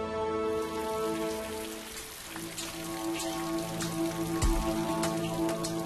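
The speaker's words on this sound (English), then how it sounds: "The blazing heat has given way to rain." Steady rain falls during a hot season before a festival, a dense, continuous patter with a few sharper drops standing out, close and moderately loud with no voices.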